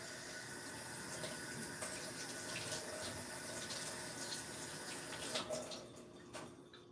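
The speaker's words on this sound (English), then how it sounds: "I'm going to go rinse off my hands and the knife as well." Tap water runs steadily into a sink while hands and a kitchen knife are rinsed after chopping parsley, a continuous close splashing hiss with a few brief clatters near the end.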